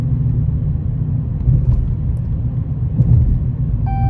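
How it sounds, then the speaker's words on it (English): Hemi V8 engine rumbling steadily at idle, a deep continuous low drone close by with slight swells in loudness and no talking. "I love the sound of this Hemi"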